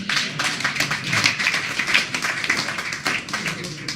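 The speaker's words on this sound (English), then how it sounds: "Oh, that one got applause." A comedy panel show audience breaks into applause after a joke, a dense, even wash of many hands clapping that holds steady for several seconds, moderately loud and without talk.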